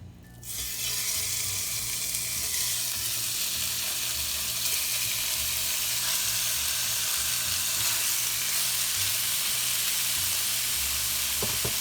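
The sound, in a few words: pork meat sizzling in hot olive oil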